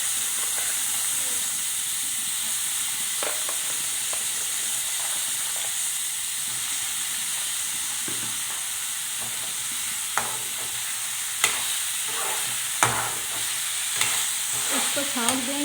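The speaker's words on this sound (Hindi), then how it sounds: "इसको छौंक देंगे, आँच तेज कर लेते हैं" Chana dal tempering sizzles in hot oil over a raised flame, a steady, close hiss that runs throughout with occasional light clinks of stirring.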